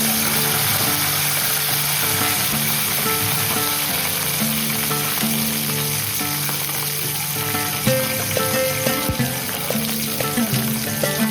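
Curry leaves fry in a pan with a bright, steady crackling sizzle, and sharper spits and utensil clicks come through toward the end, all close and without speech.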